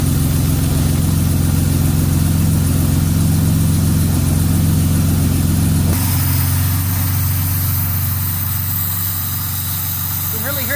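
A Jaguar XK150 engine idles steadily at about 1,000 RPM just after starting, with the starting carburetor working; a loud, even low rumble runs throughout, shifting in tone midway, without speech over it.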